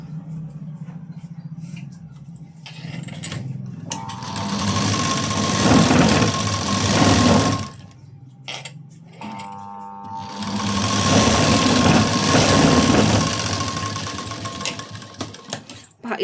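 Sewing machine stitches a cross strip of lining onto the right side of the main fabric, its motor whirring steadily in two long close bursts separated by a brief pause, with no talking.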